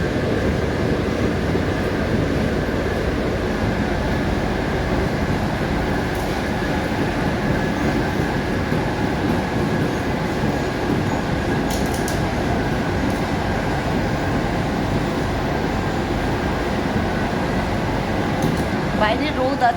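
Inside a moving metro train, a steady rolling hum of wheels and cabin air runs throughout, with faint squeals now and then and low voices in the background.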